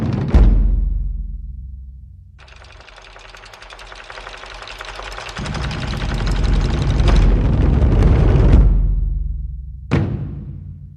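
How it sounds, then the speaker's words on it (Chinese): Cannon fire and explosions over the Yellow Sea in a naval battle: loud booming blasts open and close the passage, with a long rumbling roar of sustained fire in between. "黄海上空硝烟滚滚，遮天蔽日，炮声轰鸣，震耳欲聋。"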